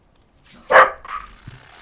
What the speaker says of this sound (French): Ah, il m'a fait peur ton chien!